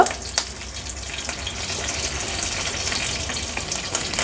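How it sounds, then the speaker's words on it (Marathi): Mustard seeds, cumin and curry leaves spatter and sizzle in hot oil for a tempering, a steady close crackling hiss with scattered sharp pops throughout. "राई आणि जिरं तडतडलं का आपण हा कडीपत्ता फोडणीला घालणार आहोत"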